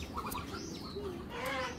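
A pigeon gives soft, close cooing and brief flutters, quiet and intermittent over a faint background.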